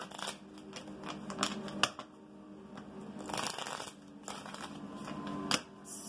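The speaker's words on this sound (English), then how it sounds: "I want to take another couple cards on this outcome here." Tarot cards being shuffled and drawn by hand, a run of crisp riffling and flicking bursts with sharp snaps, close and fairly quiet, with no talk over them.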